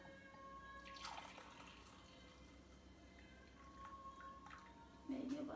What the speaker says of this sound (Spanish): Vamos a poner el vino en este vaso, esta copa.